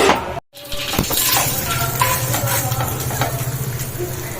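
Cumin and mustard seeds fry in hot oil, hissing loudly and steadily close up with light crackling and stirring.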